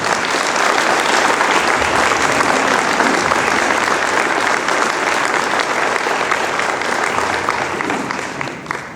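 A hall of guests at a sports hall of fame induction gala breaks into loud, sustained applause, a dense wash of clapping that holds steady for several seconds before starting to fade.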